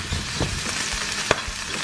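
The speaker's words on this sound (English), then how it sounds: "Gently press down so it's all getting seared." Food sears in a hot pan while being gently pressed down, a dense continuous sizzle with soft spoon scrapes and one sharp tap, close up and without talk.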